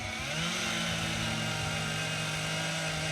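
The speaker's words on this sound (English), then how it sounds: "the next best thing is to try to overtalk a lawnmower" A lawnmower engine runs across the street, a loud, steady droning hum that holds unbroken throughout, with no talk over it.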